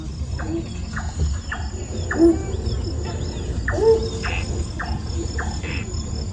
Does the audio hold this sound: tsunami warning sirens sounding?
no